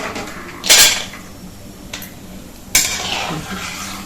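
Cashews being lightly roasted in a pan for a festive dry-fruit sweet, with a couple of sharp metallic scrapes and clinks of a spoon against the pan separated by quieter gaps, no talking.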